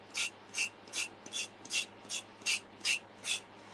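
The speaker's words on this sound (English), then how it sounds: "A little gator sander. I'm just going to sand off the edge." A small Gator sander works off an edge with nine even back-and-forth rasping strokes, close up and steady, with no talk.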